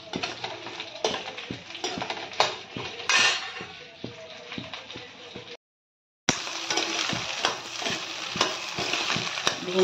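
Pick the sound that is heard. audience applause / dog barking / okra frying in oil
okra frying in oil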